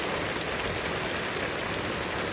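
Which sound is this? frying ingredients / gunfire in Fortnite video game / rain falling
rain falling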